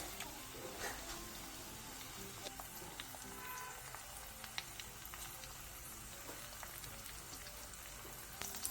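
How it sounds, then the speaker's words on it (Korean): Napa cabbage leaves coated in batter, two layered together, frying in plenty of oil in a pan over medium-low heat, giving a steady, quiet, crackling sizzle with tiny spattering pops throughout and no voices. "팬에 기름을 넉넉히 두른 뒤 배추 2장을 겹쳐서 올리고 중약불에서 부쳐주세요."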